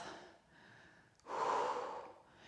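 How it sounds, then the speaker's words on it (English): A person in a strength and balance workout takes a deep breath and lets it out through the mouth in one long, close, breathy whoosh after a softer inhale. "nice deep in-breath through the nose to warm the air. Exhale through the mouth"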